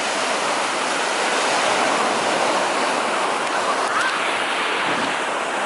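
Waves washing onto a beach with very clear water, heard as a steady loud broadband roar of surf and wind throughout, with no talk.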